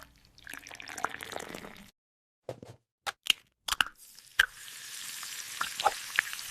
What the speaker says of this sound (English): I am frying eggs.